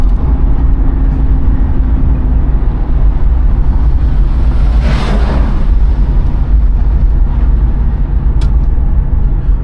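1996 Chevrolet Impala SS with its stock 5.7 V8 cruising, a loud continuous low engine drone and road rumble, with a brief swell of wind or tire noise midway.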